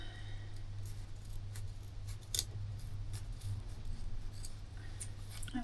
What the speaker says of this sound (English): And it's time to cut off that zip as well.